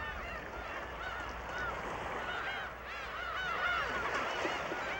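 A dense chorus of black-tailed gulls calling nonstop on a coast during mating season, many overlapping cries rising and falling, with a steady hum of wind or surf underneath.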